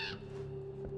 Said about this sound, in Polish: Znowu kruk